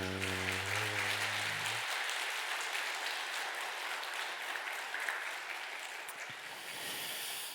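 A church congregation claps vigorously, a sustained, dense wash of applause following a short held low note at the start, gradually easing in level.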